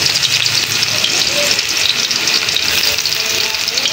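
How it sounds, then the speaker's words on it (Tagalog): Garlic frying in hot oil in a pan, a loud, dense, continuous sizzle heard close up, steady throughout with no talk. "Salang na natin yung bawang."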